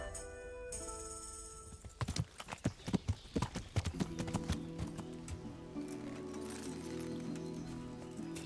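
Video game horse hooves clip-clopping in a quick, uneven run for a few seconds, then a steady tonal hum with faint background chatter.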